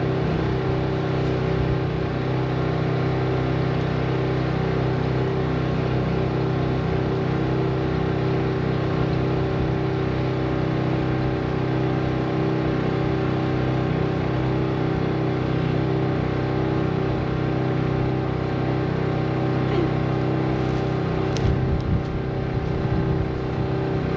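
A tractor engine runs steadily at idle, giving a constant droning hum with a few faint clanks near the end.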